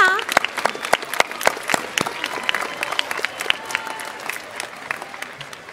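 Scattered applause from an audience at a Hobart High School graduation ceremony: sharp individual claps that are fairly dense at first, then thin out and fade.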